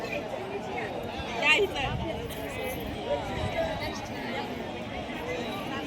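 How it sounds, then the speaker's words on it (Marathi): Dense crowd at the Sant Dnyaneshwar palkhi procession in Saswad, Purandar taluka: steady close babble of many voices with footsteps and scattered calls, continuous throughout. "खूप गर्दी आहे."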